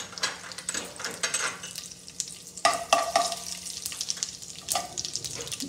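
About a spoonful of mustard seeds dropped into hot oil, a continuous crackling sizzle with scattered sharp pops and a few stirring scrapes, close and moderately loud.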